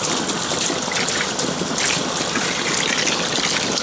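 Water gushes from a hose after the valve is opened, a loud continuous broadband rush that holds steady throughout with no talking.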